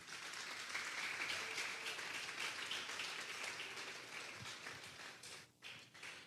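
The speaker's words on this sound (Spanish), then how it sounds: "Vamos a darle un fuerte aplauso al Espíritu Santo." A church congregation at a Sunday service breaks into steady, fairly distant applause that carries on for several seconds before thinning out.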